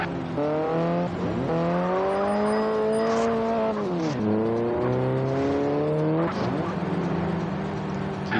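A sports car in a video game accelerates hard, its engine note climbing in repeated rising sweeps with brief drops at gear changes, loud and continuous, with faint tire squeal.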